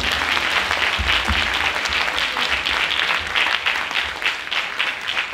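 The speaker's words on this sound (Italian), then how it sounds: "Un applauso ai nostri operatori di palco, signori!" Audience applause at a Christmas show of music, dance and theatre: dense, steady clapping fills the whole stretch, loud and close, with no voices above it.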